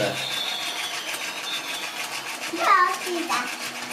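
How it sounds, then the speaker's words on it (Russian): Electronic rocket sound effect from a musical city-themed developmental play mat for children: a steady buzzing, engine-like hum, then a brief swooping tone near the end, with faint background voices. "Еще ракета, давай на ракету."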